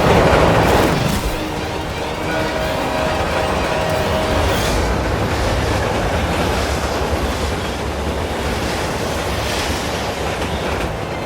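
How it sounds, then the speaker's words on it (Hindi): Train approaching with a loud, steady rumble and rhythmic clatter of wheels on rails that continues throughout, with no voices. "ट्रेन अपनी तरफ आ रही है।"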